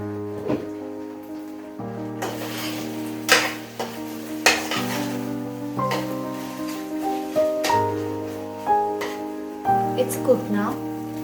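Tofu and capsicum stir-frying in a pan, a soft sizzle with scraping and clinking of a utensil against the pan under steady background music.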